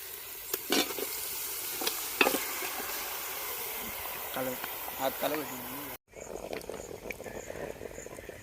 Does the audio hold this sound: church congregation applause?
no